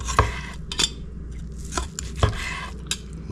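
A knife slices through a tender American Wagyu bavette steak on a board, a few distinct sharp cutting taps and scrapes spaced irregularly, close and clear, with no talking.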